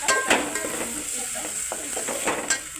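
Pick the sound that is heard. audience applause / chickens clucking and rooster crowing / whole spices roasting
whole spices roasting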